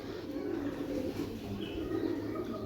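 A pigeon coos softly nearby, a low steady burbling call running throughout in a quiet domestic setting.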